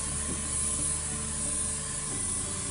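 A spray tanning gun hisses steadily as it mists tan solution across a person's hands, one continuous close airy spray with no pauses.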